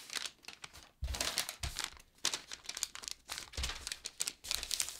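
A paper pattern is folded and creased along a drafted line, giving close, soft crinkling and rustling in uneven bursts with a few sharper crackles.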